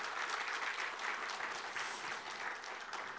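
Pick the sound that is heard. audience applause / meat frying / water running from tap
audience applause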